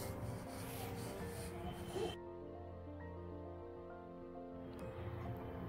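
A spoon stirs coriander into chicken in a pot for a white chicken pulao, making a rough, close scraping and rubbing sound for about two seconds before it gives way to quieter sizzling with a steady tonal hum.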